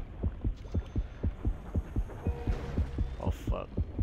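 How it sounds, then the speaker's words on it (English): A steady, throbbing heartbeat warning in the underwater game Depth signals a shark nearby, pulsing in regular double beats about three times a second over a low hum, loud and close, with a brief faint voice. "if you hear that heartbeat"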